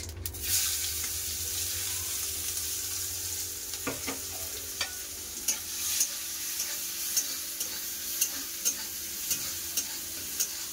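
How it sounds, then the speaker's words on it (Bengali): Chopped onions frying in leftover fish oil with black cumin in a wok, a continuous close sizzle broken by regular scraping and clinking stirs, no talking. "পেঁয়াজটা হাফ ভাজা হয়ে গেছে"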